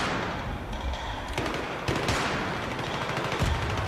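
Loud, continuous bursts of rapid gunfire from the video game Battlefield 3 fill the whole stretch, with shots crackling in dense overlapping volleys and no speech.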